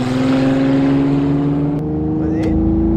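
Car engine held at steady revs with one cylinder cut on a test to run on few cylinders, a rough, uneven drone close by with a slight pitch change midway and voices talking over it.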